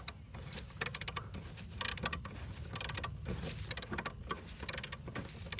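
A socket wrench ratcheting to loosen a wheel bolt on a 21-inch Lawn Boy mower, heard as a quiet, rapid, continuous clicking close by.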